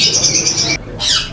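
Fancy and imported birds at a bird market in Multan, Pakistan, chirp and tweet in a brief, close, loud burst of high calls with a short gap in the middle, and no voices.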